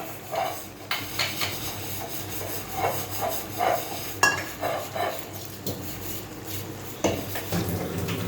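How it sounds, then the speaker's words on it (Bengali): Metal cooking pot handled in a home kitchen while rice cooks: scraping, clinks and knocks of utensils and a lid, in irregular bursts close by, with no talk. "আর একটু জল দেবো, দিয়ে আমি এটাকে ঢাকা দিয়ে দেবো।"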